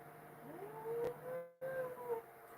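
Out on the ice during a cusk fishing outing, a person imitates a coyote with two drawn-out, rising howls. They are fairly faint over a low background hum.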